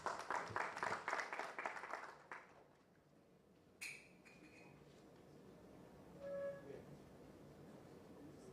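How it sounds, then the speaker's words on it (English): Brief round of applause from a congress audience, several seconds of dense clapping that fades out into a quiet room, followed by a couple of faint clinks. "Round of applause."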